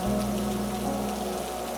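Steady rain falls over a quiet town, a continuous even patter close by with a low background hum, no voices and no thunder.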